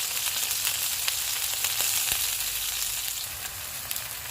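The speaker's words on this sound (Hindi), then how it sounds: "अब हम प्याज और टमाटर को भी ग्रिल कर लेते हैं।" Onions and tomatoes, cut into thick chunks, sizzle and fry steadily in a pan, with a dense continuous crackle and occasional small pops throughout.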